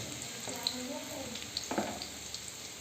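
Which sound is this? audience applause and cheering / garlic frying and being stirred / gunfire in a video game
garlic frying and being stirred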